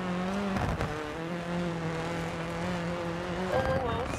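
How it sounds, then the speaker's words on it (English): Four-cylinder rally car engine exhaust in the video game DiRT 4, a steady droning note held close, dipping briefly and rising again near the end. "It sounds like a good exhaust system. But it's a four-cylinder, well, so it doesn't sound great."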